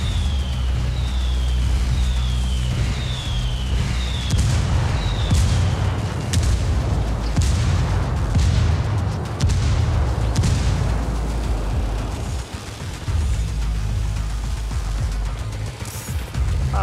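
Mortar fire in the Ghost Recon Wildlands video game, heavy booming impacts and rumbling blasts rolling on over a loud continuous background, with a series of descending whistles early on.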